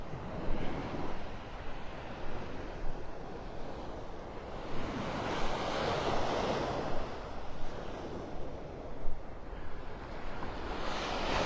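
Surf washing along the beach at Delnor-Wiggins in North Naples, Florida, a broad, continuous roar of breaking waves that swells and fades, mixed with wind buffeting the microphone, and no speech.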